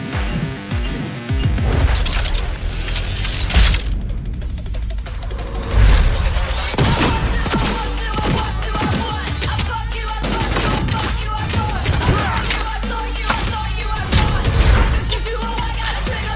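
Shotgun blasts and gunfire ring out in a Cyberpunk 2077 trailer, with loud, repeated bangs and crashes layered over a thick, continuous mix of music and effects across the whole stretch.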